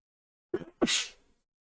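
A single human sneeze with a short inhaled catch and then a sharp burst, close and alone, on a gaming news show.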